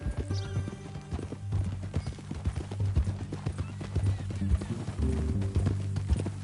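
Hooves clip-clop in the Red Dead video game, a rhythmic run of close, thudding hoof strikes over a music bed with an occasional horse whinny.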